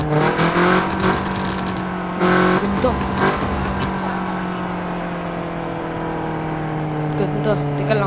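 Car engine in the Car Parking Multiplayer mobile game, a loud, steady synthetic drone that dips and rises slightly with a brief rev, heard over background noise with no voices.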